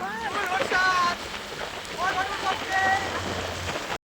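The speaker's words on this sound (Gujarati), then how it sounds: "વરસાદ" Rain falls steadily on an outdoor surface, a continuous hiss that stops abruptly at the end, while people talk over it.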